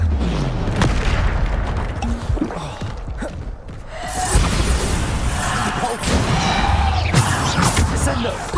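Bombarda explosion spells cast in Hogwarts Legacy go off as repeated heavy booming blasts, layered over a dense, continuous roar of magical combat effects with whooshes and crashes.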